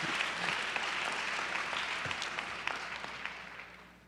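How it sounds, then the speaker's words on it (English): A lecture audience at a talk on race gives a round of applause: dense, moderate clapping from a crowd that slowly fades over about four seconds. "she deserves a round of applause."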